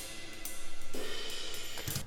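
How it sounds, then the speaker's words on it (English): Cymbals are struck a few times, each hit ringing out with a bright, washy shimmer that lingers between strikes. "So I've just got some cymbals here that sound like this normally."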